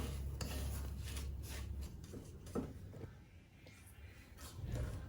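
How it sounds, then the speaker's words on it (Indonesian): Melting sugar stirred in a nonstick Teflon pan over low heat, a soft scraping and rubbing of the utensil against the pan's surface in quiet, irregular strokes, close and faint. "sesekali diaduk biar nggak gosong"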